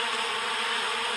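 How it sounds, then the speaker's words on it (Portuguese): Honey bees, the stinging honey-producing kind, swarm around a hive box in a dense, continuous buzz that sounds close and fairly loud, with no voices. "Aqui a gente tem a abelha melífera, a abelha que produz mel, a abelha com ferrão"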